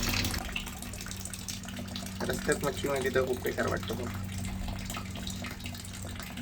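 Water is poured and splashed while changing the water of fish being carried on a road trip, a short burst of trickling and sloshing under steady background noise, with a person talking.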